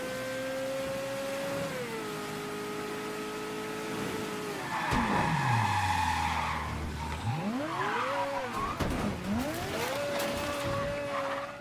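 A car in Mafia 3 skids through a garden, tires squealing in long sweeping wails over a steady engine drone, loud and close, with the engine pitch rising and falling.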